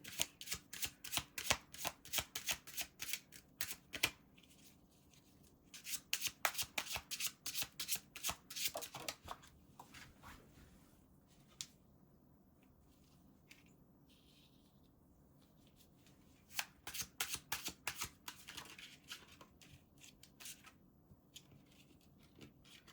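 Tarot cards being handled and shuffled in crisp, rapid riffling bursts, with a long run at the start, another mid-way, then quieter pauses and a final close burst of shuffling.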